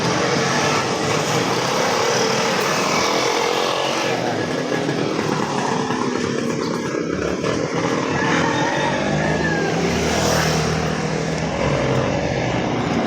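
Tricycle engines idle and rev at a tricycle queue in Southville 6, a steady loud, close motor drone that runs without a break and swells slightly near the end.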